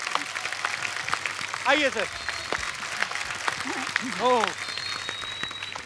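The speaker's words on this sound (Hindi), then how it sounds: "एक बार जोरदार तालियां हो जाए पूरी स्टार कास्ट के लिए।" Studio audience at a comedy show claps loudly for the star cast, a steady rush of applause running beneath a couple of short spoken exclamations.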